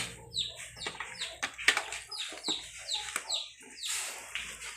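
Chickens cluck and peep in quick, irregular bursts while pecking at feed, close by and fairly busy, with no talk over them.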